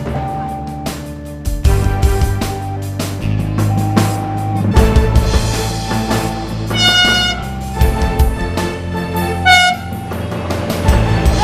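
A train rumbles past a railway level crossing with a loud horn sounding several times over a steady mechanical roar and clatter, continuing for several seconds.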